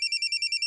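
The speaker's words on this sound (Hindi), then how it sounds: "अरे फोन उठा लो ना, वरना बार बार यूं ही बजता रहेगा।" A telephone rings in a fast, even electronic trill of repeated bursts, loud and close, with nothing else heard.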